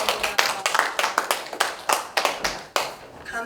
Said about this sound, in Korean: 하나님께 영광을 박수 올려드리겠습니다.